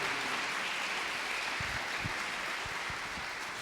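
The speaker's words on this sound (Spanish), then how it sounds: "Vamos a darle un aplauso fuerte a estos hermanos valientes que se bautizaron hoy en este día." A church congregation applauds the newly baptized, a soft, steady wash of clapping heard from a distance with a few low thumps underneath.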